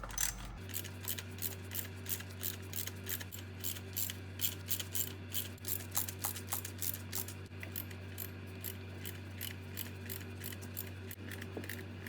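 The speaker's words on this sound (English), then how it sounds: "Now we will loosen the 8 bolts holding on the lower air intake." A ratchet wrench loosening the lower air intake bolts on a Jeep 3.6 engine, with steady rapid clicking strokes over a low hum, repeated in quick bursts throughout and no talking.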